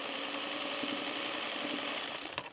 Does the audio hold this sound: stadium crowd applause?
no